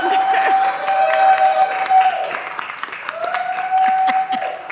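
An audience in a Board of Aldermen council chamber applauds as the new clerk walks in. The clapping is steady and fairly close, with individual claps distinct, and a sustained tone runs beneath it.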